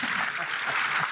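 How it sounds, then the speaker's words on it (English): Audience at a military ceremony for a fort redesignation gives a brief burst of dense, continuous clapping, fairly loud and close, with no clear talk over it. "Ladies and gentlemen, please join me in a warm round of applause for Lieutenant Colonel retired James Tucker."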